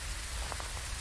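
Rain falls in the horror video game Phasmophobia, a steady, quiet hiss of rain on surfaces with faint drop patter, alone and unbroken with no voices.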